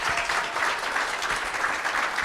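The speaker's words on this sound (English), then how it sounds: "Let's give her a round of applause for that." An audience at an essay contest gives a short burst of steady clapping, a dense spread of many hands applauding together at moderate loudness.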